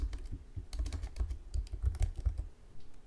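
A computer keyboard is typed on in a terminal to enter a command, a quick, uneven run of close keystrokes with a soft dull thud under each, and no talking.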